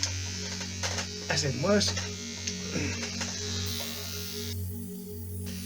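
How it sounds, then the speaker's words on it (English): Electric clippers give a steady close-up buzz while shaving a balding man's head for an at-home buzz cut, the hum shifting in pitch as the blade moves, with brief speech over it and the motor stopping near the end. "There's something very satisfying about shaving your own head, even though you can't see what you're doing."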